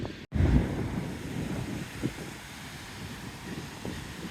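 Strong wind buffets the microphone on a seafront while rough sea waves wash in underneath, a continuous loud roar with occasional surges.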